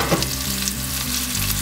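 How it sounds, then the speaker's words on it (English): Steady, close sizzling of chicken frying in hot oil in a pan, a continuous crackling hiss with no talking. "You can hear that sizzle, and you can see it."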